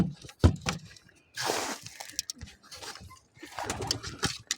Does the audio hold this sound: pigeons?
yes